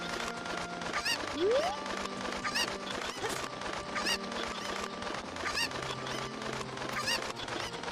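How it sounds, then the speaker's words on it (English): Cuckoo chickens in The Legend of Zelda: Ocarina of Time on Lon Lon Ranch give repeated squawky clucks over steady game background music, with a rising electronic swoop early on and no talking. "I'm assuming we need to save these chickens"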